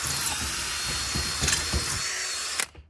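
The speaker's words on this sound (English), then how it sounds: "you can drill it out" A power drill with a 3/16 bit drilling out a rusted brake line bolt whines continuously at high pitch, with a few sharp clicks and knocks near the end before it stops.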